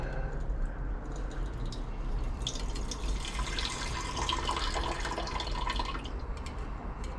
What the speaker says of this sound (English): I'll pour this water off here